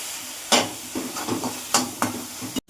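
Vegetables including tomato and capsicum frying in a pan for a cheesy corn vegetable pasta, a steady soft sizzle punctuated by several sharp stirring scrapes and clatters of a utensil against the pan.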